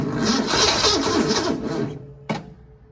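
A 1966 Ford Mustang engine with a new starter cranks slowly and laboriously, a loud, rough, continuous churning that cuts off abruptly, followed by one brief separate burst of cranking.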